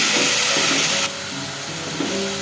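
Tomato puree frying with ginger-garlic in a karahi for a restaurant-style chicken white karahi, a loud close hissing sizzle that drops in intensity partway through and then resumes steadily.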